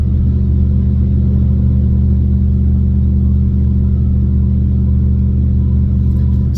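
A car fitted with an AWE exhaust, long-tube headers and a performance cam cruises steadily on a highway, its loud, deep droning rumble holding constant throughout with no revving.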